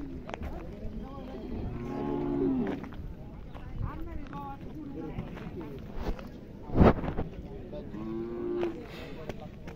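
A race bull moos at a horse and bull racing ground, several drawn-out lowing calls rising over a busy crowd murmur, with a sharp thump midway.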